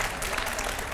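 A studio audience claps in a brief, dense burst of applause, steady and fairly loud for under a second.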